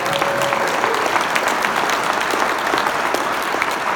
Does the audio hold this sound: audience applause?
yes